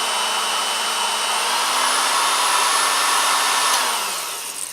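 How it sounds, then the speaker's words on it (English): A heat gun blows steadily while automotive fuses are being tested, a loud, even hiss and whine that holds for several seconds and then shifts slightly lower as it begins to wind down. "I'll turn the heat gun off, pull the fuse out."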